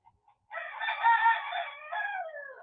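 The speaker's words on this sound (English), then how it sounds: "Ignore the chickens outside." A chicken outdoors crows once in a long, drawn-out, wavering call that is fairly loud and heard from nearby, preceded by a couple of faint clucks against an otherwise quiet background.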